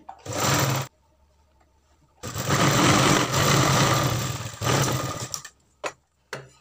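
A sewing machine stitches a sleeve in loud, close bursts: one short run, a longer sustained run with a brief dip, then a few quick stop-start stitches.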